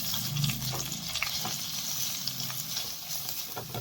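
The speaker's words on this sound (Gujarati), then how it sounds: "ગેસ બંધ કરી બધી વસ્તુને મિક્સ કરી લઈએ" A spoon stirs taco filling seasoned with oregano, chili flakes and Maggi masala in a pan just off the gas, giving soft scraping strokes over a faint lingering sizzle, close and steady.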